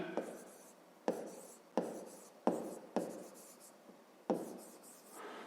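A pen writes out a math solution on paper in a series of short scratchy strokes with sharp starts, close and fairly faint, with no talk.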